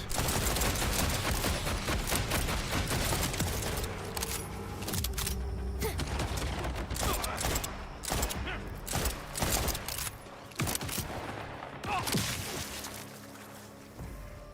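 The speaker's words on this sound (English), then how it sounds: "Boom turrets." Turrets fire in a video game as dense, continuous rattling gunfire fills the whole stretch, loud throughout with mechanical clatter layered in and easing off slightly toward the end.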